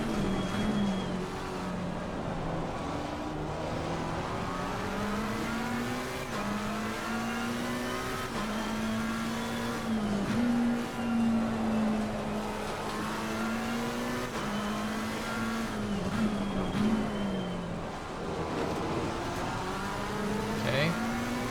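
Simulated GT race cars, including Porsches, roar continuously through a league race at Snetterton in Assetto Corsa Competizione, engine pitch climbing and dropping through gear shifts and corners, with a commentator's voice faintly underneath.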